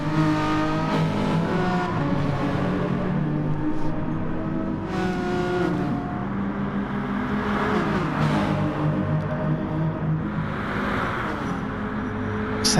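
Touring car engines roar steadily at Monza in a racing game, with continuous revving and whining gear changes as cars jostle through chicanes and slipstream one another.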